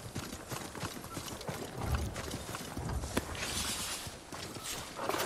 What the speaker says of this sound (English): Is that the enemy horse?